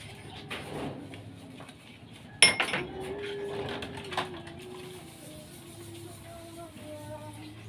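Used dishes being washed in chlorinated water at a rural provincial home: a sharp clink of crockery, then softer scattered rattles, with faint birds cooing in the background.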